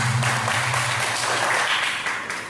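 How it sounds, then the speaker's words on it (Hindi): An audience applauds for the dancer Showcase Sandhya with a steady, dense wash of clapping that carries on for the full stretch, a low hum underneath at the start and the clapping easing slightly toward the end. "उसके लिए तालियां बजाओ शोकेस संध्या"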